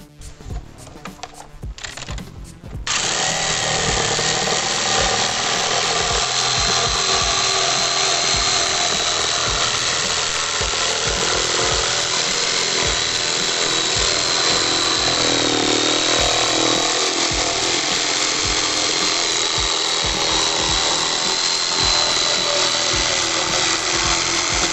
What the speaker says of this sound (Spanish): Voy a cortar acá, voy a cortar las curvas y estamos.